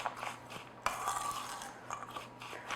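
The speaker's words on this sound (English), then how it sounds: "we're just going to mix it all" A utensil stirs upside down cake topping in a bowl, with soft scraping and light clinks coming in uneven strokes, quiet and close, with no talking.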